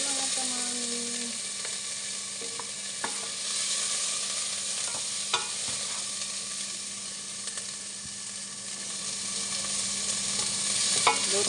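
Onion frying in a pot for vegetable soup, a steady close sizzle with occasional clinks and scrapes of a stirring utensil against the pot, and brief speech heard faintly near the start.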